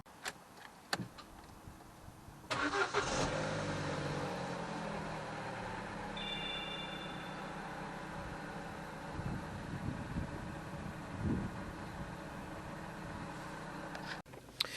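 A Vauxhall Corsa with a 1.2 A12XER engine, which has a coolant problem, cranks and fires after a quiet pause, then settles into a low, steady running drone that continues until the end.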